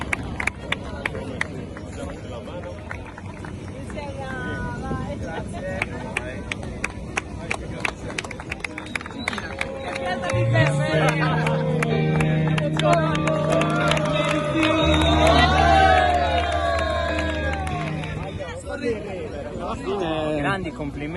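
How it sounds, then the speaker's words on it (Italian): A crowd at a Serie B beach soccer event on a beach in Sardinia claps and cheers, building into a louder swell of applause and shouts midway through, with talk and murmur around it. "Tanti applausi."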